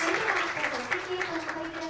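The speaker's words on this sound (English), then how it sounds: "let us give them a roaring round of applause" Applause from an audience at a children's world peace summit, a short round of clapping blended with a voice over the top.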